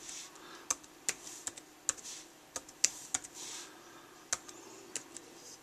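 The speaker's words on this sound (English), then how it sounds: "So we'll just go ahead and type in a local one." Someone types an IP address on a Microsoft Surface tablet keyboard: about a dozen crisp, irregularly spaced key clicks, close and fairly quiet, over a faint steady background hiss.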